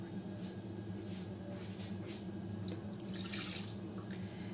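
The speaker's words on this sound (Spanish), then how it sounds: "Ahora vamos a añadir el agua" Water pours into a Mambo cooking machine while making broken eggs with potatoes, a soft steady running stream heard close and alone.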